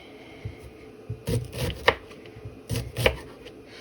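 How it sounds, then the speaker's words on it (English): A knife chops through vegetables on a cutting board in a few separate bursts of quick, close strokes, with no talking. "we're just going to chop this up"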